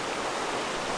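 Spring water pouring out of a cave at the head of an Ozark creek, making a brief, even rushing wash that stays loud and close.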